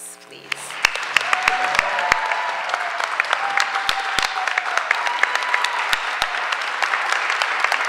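Audience applause at a school board of education meeting, a sustained wash of clapping from a crowd that swells quickly and carries on steadily, with voices faintly underneath.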